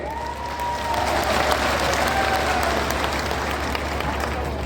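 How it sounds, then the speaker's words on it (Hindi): The crowd at Rahul Gandhi's political rally in Bhind claps continuously, a thick, even wash of applause from a large outdoor gathering, holding at a steady level throughout. "अभी ताली बजाई है"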